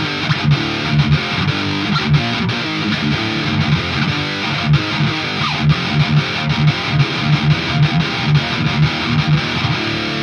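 A crunchy, overdriven electric guitar riff through an amp simulator, with a steady chugging rhythm, played loud and continuous, with no voices.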